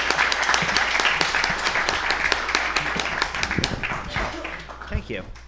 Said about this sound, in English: let's give Mary a big round of applause once again